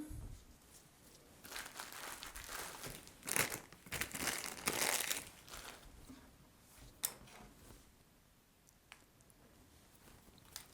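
Cut sugar paste is peeled away from a patchwork cutter shape, making soft close crinkling, sticky squishing and light tearing sounds that fade toward the end, with no talking.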